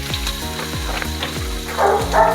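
Crushed ginger and garlic frying in a pan with cinnamon and cloves, giving a steady close sizzle with a brighter crackling burst near the end.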